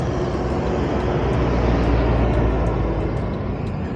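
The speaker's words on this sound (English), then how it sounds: "There's a car passing here." A car passes close by on a road, its loud, steady engine and tyre noise filling the moment without voices.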